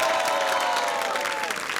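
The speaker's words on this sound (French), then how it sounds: "On applaudit un peu." An audience at a live comedy show claps continuously, producing a dense, steady wash of applause from a crowd close by.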